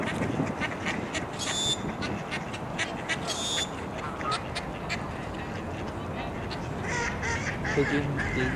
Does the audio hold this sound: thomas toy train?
no